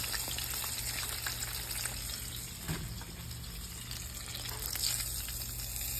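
Flounder deep-fries in hot oil at around 350 to 375 degrees, giving a steady, dense sizzle and bubbling that holds close and even throughout, with no voices over it.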